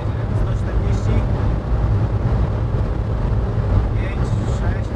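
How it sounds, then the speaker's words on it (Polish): Strong headwind roaring against a fast-moving vehicle, a loud continuous rushing noise under someone speaking. "A, pod wiatr jedziemy, niestety. Aż szumi."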